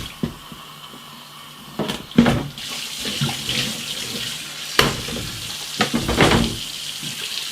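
Tap water runs into a sink while brewing gear for a Weissbier is rinsed, a steady splashing flow punctuated by a few clunks and knocks nearby.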